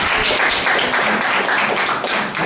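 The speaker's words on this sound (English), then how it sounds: "Let's give him a round of applause." A room of people applauding a speaker at a Toastmasters meeting, a dense, loud burst of clapping sustained evenly through the short stretch.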